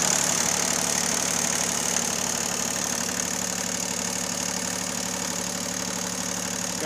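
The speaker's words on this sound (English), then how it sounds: "you can hear it idles really nice" A rare Bombardier MPV-20 tractor with its hood off idles steadily, its engine giving an even, continuous rumble from start to finish with no talk over it.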